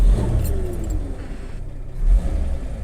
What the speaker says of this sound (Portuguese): o som desses 6 cilindros em linha da Chevrolet é muito clássico